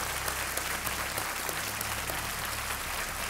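Studio audience applause on the quiz show KBC India, a steady, dense roar of clapping that fills the whole short stretch without pause.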